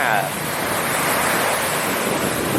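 Strong surf breaking on the beach at Ban Krut, Bang Saphan, Prachuap Khiri Khan, Thailand, a loud continuous wash of waves filling the whole clip with wind noise buffeting the microphone.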